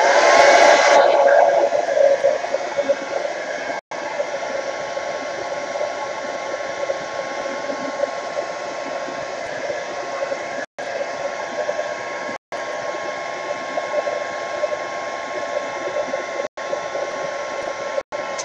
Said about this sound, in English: Speaking of heat gun, I am just going to heat this for a second.